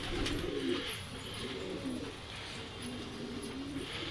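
Several pigeons coo close by in low, repeated rolling calls that overlap through the whole stretch, over faint steady background noise.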